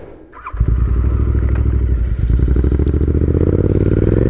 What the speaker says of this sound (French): Et je vais vite démarrer.